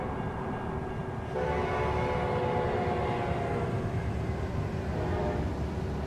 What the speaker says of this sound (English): Now that's a long train, it looked like.